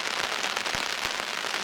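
Rain patters on a fishing umbrella beside a swollen river, a dense steady hiss with occasional heavier drops tapping close by.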